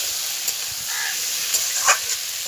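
Turmeric is stirred into chicken stew frying in a pot, with a steady moderate sizzle and a few soft stirring scrapes close by, without any talking.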